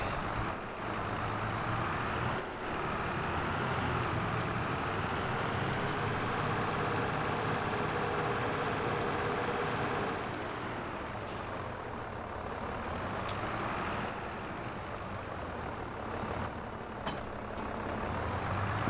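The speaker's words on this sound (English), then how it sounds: "Grab the New Holland. We'll just tug that trailer out the way." Heavy vehicle engine drone from a New Holland tractor towing a trailer in a farming video game, steady and close, with a brief hiss and a couple of short clicks near the end.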